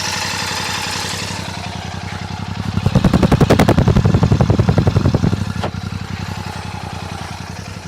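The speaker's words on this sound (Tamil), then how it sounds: "வண்டியோட சவுண்ட் எப்படி இருக்குன்னு பார்ப்போம்" A Royal Enfield Classic 650 Twin engine idles with a steady low thump, then revs up into a loud, rapid staccato exhaust beat before settling back toward idle.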